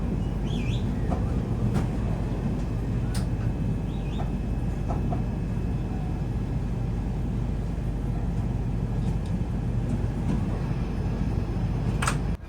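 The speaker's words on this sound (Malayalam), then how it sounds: "അങ്ങനെ നമ്മുടെ ട്രെയിൻ നാസിക് സ്റ്റേഷനിലോട്ട് കയറിക്കൊണ്ടിരിക്കുകയാണ്" Mangala Lakshadweep Superfast Express rolls into Nashik station with a low, steady rumble of wheels, scattered metallic clanks and a few faint high squeals over constant rail noise.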